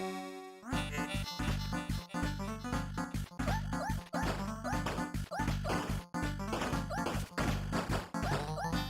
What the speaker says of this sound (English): Oh no, they got dogs.